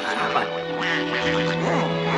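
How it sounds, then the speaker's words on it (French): Cartoon ducks from a 1943 Disney short quack in a loud, dense chorus of overlapping nasal calls, with music underneath. "Et voici Coin Minet et Canard Vénard, et tous les joyeux canards, de drôles de drilles"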